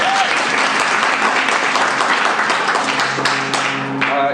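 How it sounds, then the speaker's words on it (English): An audience at a Denver Startup Week talk breaks into loud, dense applause that continues evenly for several seconds, with no talking over it. "so I want to give a round of applause for them as well."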